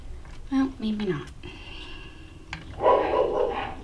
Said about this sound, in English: Our neighbors next door have these dogs and they like to bark